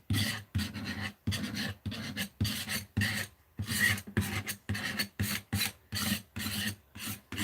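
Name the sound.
scraping sound while working on art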